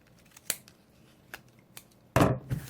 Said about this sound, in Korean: 가위를 가지고 와서 허벅지를 좀 대각선으로 잘라주세요